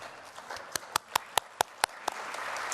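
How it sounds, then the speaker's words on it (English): At an elementary school MLK celebration in Plano, a first grader is honored with a faint string of about seven sharp, evenly spaced handclaps over quiet room noise. "let's give a huge round of applause to our first grader from Barksdale Elementary, Leona Kong"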